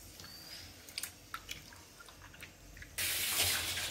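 Running water from a tap suddenly gushes on to wash goat blood, after a few soft drips and light handling noises, steady and close.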